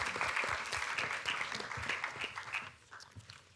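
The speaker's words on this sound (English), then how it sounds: "Can we just offer a round of applause to Wendy again?" Applause from a conference audience at an economic measurement event, a dense patter of many hands clapping steadily before thinning out toward the end.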